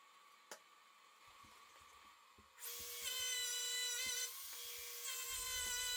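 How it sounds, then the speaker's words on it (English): Handheld router with a chamfer bit cutting the inside edges of a wooden box. Quiet workshop ticks and taps come first, then the router spins up to a loud, sustained high whine that stays near and steady to the end. "I used my handheld router along with the chamfer bit and took a few passes to reach the required depth"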